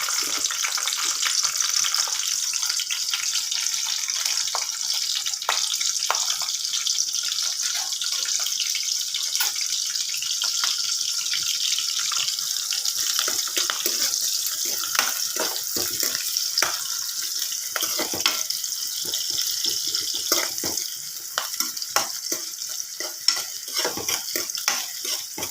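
Sliced onions and green chilies frying in hot oil for a Telugu okra tamarind stew, a continuous bright sizzle with scattered crackles and soft stirring scrapes throughout, no talk.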